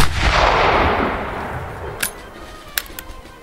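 A single loud, close blast from a Martini-Henry Mk I rifle fired on command during 1879-era drill, with a booming report that rolls and decays over a couple of seconds, followed by a few faint metallic clicks.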